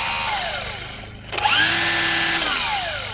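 A Milwaukee M18 FUEL cordless string trimmer in its low-speed setting winds down and then revs back up, its loud motor whine rising and holding steady close by.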